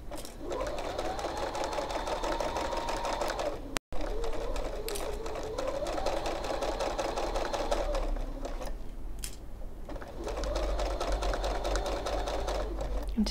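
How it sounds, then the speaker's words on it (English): A home sewing machine runs a steady straight stitch around the edge of a fabric make-up brush holder project, its fast rhythmic whirring continuous and close, with one brief stop and a short slowdown near the end. "I'm going to sew around the edge with a straight stitch, so off we go."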